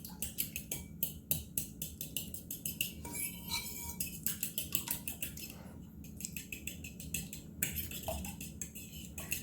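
Egg mixture for French toast being whisked in a bowl, a fast, steady run of metal-on-dish clinks and scrapes repeating close up with no talking.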